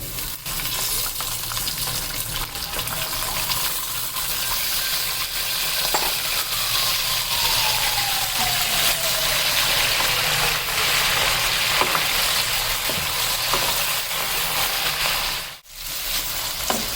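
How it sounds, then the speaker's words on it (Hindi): Chicken fries with onions and cumin in a pan, a constant close, dense sizzle with a brief dip near the end as the food is stirred. "चिकन को भी भून लेंगे प्याज के साथ।"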